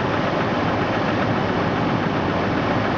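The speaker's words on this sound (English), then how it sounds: "You definitely hear that knock." Jeep engine idling in very cold weather with a suspected knock, a constant loud, dense mechanical drone that holds steady without any distinct individual knocks standing out.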